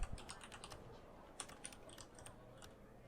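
Rapid keystrokes on a computer keyboard in the video game The Operator, a quick run of close, crisp clicks in two bursts over a faint low hum, with no talking.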